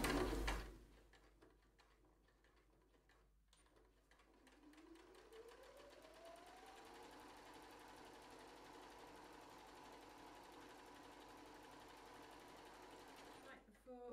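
A sewing machine stitching a cushion cover seam about half an inch from the edge, its motor spinning up into a steady, even whir that runs alone for several seconds before stopping abruptly.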